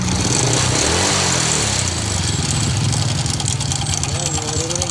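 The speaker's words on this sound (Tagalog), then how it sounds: "maririnig nyo ba guys yung tunog ng makina?" Motorcycle engine idling in a workshop, a loud, steady close rumble with a person talking over it.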